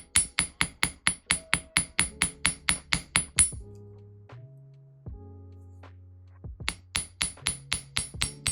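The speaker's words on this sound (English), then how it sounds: "Then I'm going to use my round side, my ball peen, and texturize that." A ball peen hammer strikes copper wire in a fast, even series of sharp metallic taps, pauses with a faint ringing, then resumes the rapid close hammering.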